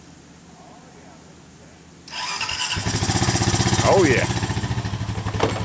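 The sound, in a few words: 2007 Honda four-wheeler engine cranking and starting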